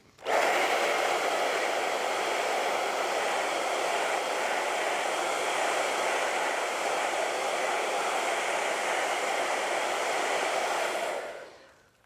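Hair dryer blowing on an acrylic painting, a loud continuous whooshing roar that starts abruptly, holds steady for about eleven seconds, then cuts off, heard alone with no talking.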